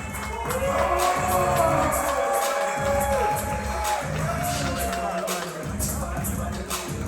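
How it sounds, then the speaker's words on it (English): A stand-up comedy open-mic audience in Detroit claps and cheers loudly, with whoops and shouts rising over a steady wash of applause. "Start clapping it up for your host and MC this evening."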